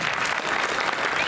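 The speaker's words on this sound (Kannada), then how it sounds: "ಜೋರ್ ಚಪ್ಪಾಳೆ" Loud, dense applause from an audience at a film title teaser launch event, sustained steadily throughout without letup.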